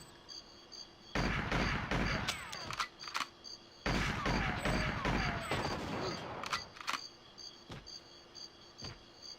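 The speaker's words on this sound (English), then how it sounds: "Oh, I hear Natalia's Magnum kicking in." Gunfire from Natalia's Magnum in GoldenEye 64 cracks out in dense, rapid volleys of shots, with overlapping sharp reports and metallic pings over a steady high-pitched game ambience, pausing briefly between two heavy bursts.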